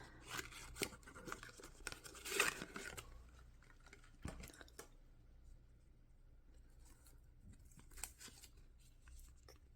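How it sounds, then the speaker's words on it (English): A paper envelope is torn open to reach a sticker sheet from a Diamond Art Club kit, with sharp close ripping and crinkling bursts, then quieter paper handling and faint rustles. "So we'll open this envelope to get the sticker sheet."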